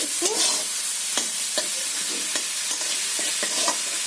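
Mustard seeds frying in leftover spice oil give a continuous hissing crackle, broken by several sharp taps and stirring scrapes at irregular intervals, with nobody speaking.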